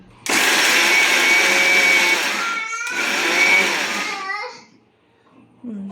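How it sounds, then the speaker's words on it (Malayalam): Mixer grinder crushes coconut with chilli, garlic and pepper in two loud whirring bursts, each motor whine dropping in pitch as it winds down, followed by near silence. "കുരുമുളക് പൊടി കാന്താരി വെളുത്തുള്ളി കാന്താരിയോട് നമ്മൾ മിക്സ് ചെയ്ത് ചതയ്ക്കാൻ പോവാം തേങ്ങയോടിട്ട് ചതയ്ക്കാൻ പോവാണേ"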